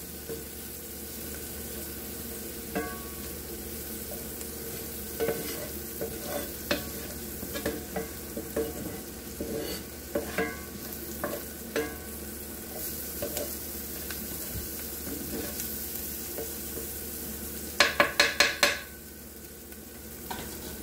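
Kielbasa and cabbage fry in a pan while a spoon stirs through them, giving a steady low sizzle with scattered scraping taps and a brief burst of louder clatter near the end; no one speaks.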